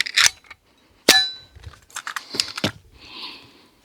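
A Bin Tac s45 457 carbon semi-auto air cannon fires a few sharp, loud cracks with metallic clanks and ringing, followed by smaller clicks and rattles of the mechanism, close up and without talk.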